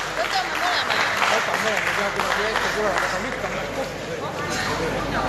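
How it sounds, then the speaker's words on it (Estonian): An indoor audience claps steadily for several seconds at a gathering of the Estonian parliament's hunting support group and hunters' society board, with voices talking over the dense applause. "Aplausi on see väärt"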